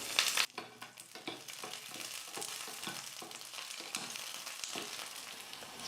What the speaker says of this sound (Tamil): இந்த பூண்டு சேர்த்துக்கிறேன். கூடவே காரத்துக்கு 3 வரமிளகா, கொஞ்சம் கருவேப்பிலை எடுத்து வச்சுருக்கேன்